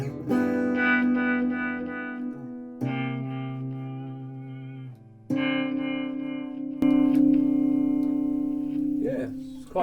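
Ibanez AS93 semi-hollow electric guitar with Super 58 pickups, played as a series of ringing chords while the tone control is adjusted; four sustained strums, each left to decay, loud and close, with an effected, slightly distorted character.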